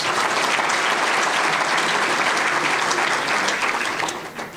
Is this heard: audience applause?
yes